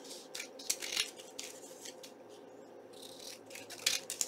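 Scissors snip out a paper hanger tag in a few short, crisp cuts spaced unevenly apart, close and fairly quiet against a calm room.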